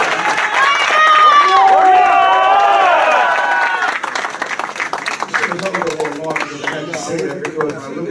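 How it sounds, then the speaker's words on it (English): Crowd applause at a martial arts school grand re-opening, loud clapping with cheers and whoops that start strong and then thin to scattered claps, with voices shouting over it. "So give her another round of applause."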